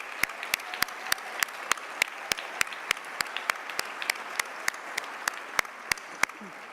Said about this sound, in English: Let's give these amazing women a big round of applause for their contribution and impact